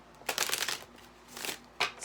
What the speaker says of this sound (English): So shuffle the cards.